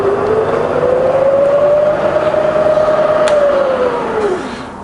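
Bridgeport milling machine spindle spinning, a smooth, fairly quiet whirring tone that rises in pitch, holds steady and then winds down near the end, heard close with no talk.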